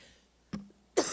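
A woman coughs twice, single sharp bursts about half a second apart, close and fairly loud, with a brief throat sound between them and a quiet room otherwise.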